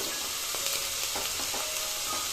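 Ginger, garlic, onion and turmeric fry in a pan for a village-style egg curry, making a short, steady, loud sizzle with faint stirring scrapes close by.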